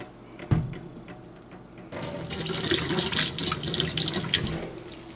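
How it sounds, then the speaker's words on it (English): Antifreeze poured into a porcelain or stainless kitchen sink while a cabin is winterized: a brief knock, then a steady splashing pour into the basin and drain that runs for about three seconds, close and fairly loud. "want to pour a little bit of antifreeze into the kitchen sink"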